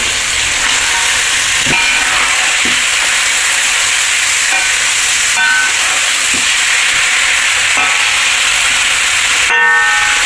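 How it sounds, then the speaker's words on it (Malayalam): Chicken pieces stirred into a hot pan of onion and tomato for a home-style chicken biryani, sizzling steadily with a few scraping stir strokes across a continuous frying hiss. "നമ്മുടെ ചിക്കൻ ഇട്ട് കൊടുക്കണം"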